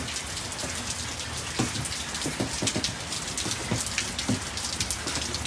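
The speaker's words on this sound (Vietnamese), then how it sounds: "Một cái mưa, rồi mưa quá lớn luôn." Heavy rain pours down on a garden in a dense, steady hiss, with close drops pattering and splashing irregularly on surfaces and no voices.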